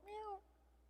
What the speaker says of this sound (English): Oh, look, I love the beautiful cat.